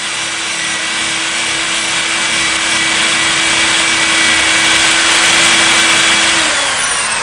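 A steady, loud high-pitched grinding whine of a power drill boring through glass, continuous throughout, with the pitch dipping slightly near the end.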